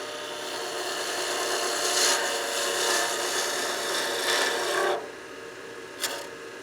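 A spindle gouge cuts the end of a spinning wood workpiece on a lathe, giving a steady close shearing rasp over the lathe's hum that breaks off near the end, followed by a short scrape.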